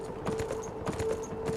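A horse gallops in the video game Beyond: Two Souls, its quick rhythmic hoofbeats thudding steadily and moderately close over a low in-game background, with no one talking.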